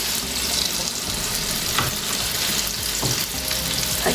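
Bread slice cooking in a hot pan for a potato, tomato and cheese sandwich, with a steady close sizzle and faint crackling that runs without pause.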